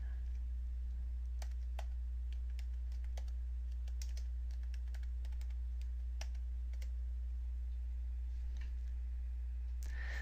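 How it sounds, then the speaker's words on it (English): Typing a full name on a computer keyboard in Microsoft Word, a string of quick, light clicking keystrokes in uneven bursts over a steady low hum, heard close without any voice. "Type your full name and click Enter."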